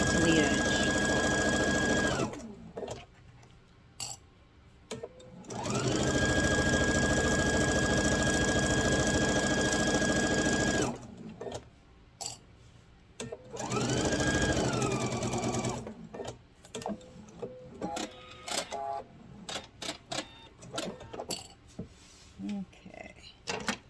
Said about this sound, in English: And then you're going to sew all the way to the edge.